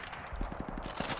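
An M60 machine gun fires in Call of Duty 4 Remastered, a fast, steady burst of loud, close, evenly spaced rounds.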